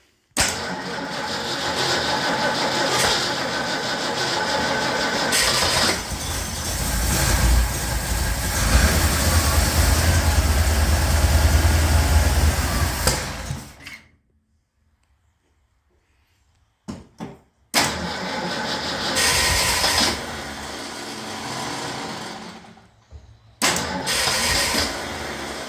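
A 1971 Ford F250 Ranger Camper Special with a 390 FE V8 cranks and runs loud and close, its rough idle steady for several seconds. The engine then cuts out into silence, and it fires again in short bursts.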